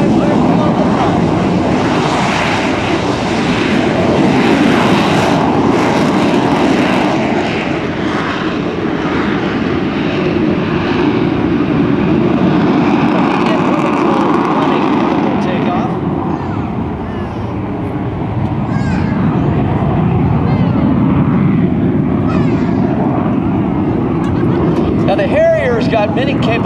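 An AV-8B Harrier II jet at the 2006 MCAS Miramar Airshow gives off a loud, steady turbine roar that swells and dips slightly as it winds up, with an announcer talking over it throughout.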